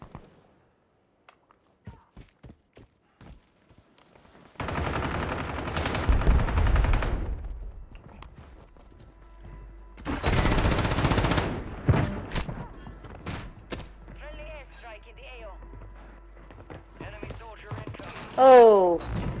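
Video game gunfire with sniping, two loud sustained bursts of rapid shots separated by quieter stretches of scattered clicks and thuds, with a voice speaking near the end.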